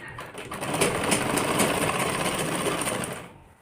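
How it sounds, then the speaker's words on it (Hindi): A sewing machine stitches a collared kurti with a steady, fast whirring run lasting about three seconds before it stops. The machine is close and fairly loud, with no talking. "पहले यहाँ से सिलाई मार लेती हूँ।"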